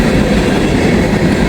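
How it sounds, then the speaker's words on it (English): A freight train hauling steel coil cars rolls past close by, its loud, dense rumble of wheels and cars running steady and unbroken. "Steel coil cars. When these trains go real fast, these things like shake back and forth."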